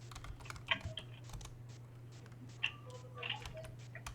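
Typing on a computer keyboard during Linux configuration work: steady light key clicks with a few sharper taps, soft and close over a constant low electrical hum, with no talking.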